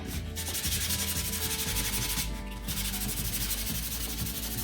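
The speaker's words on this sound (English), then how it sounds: "right now I'm just going to go back and sand all my pieces" Sandpaper is rubbed over painted laser-cut wood pieces along the grain in continuous back-and-forth strokes, producing a close, steady scratchy hiss with a few short pauses and no talking.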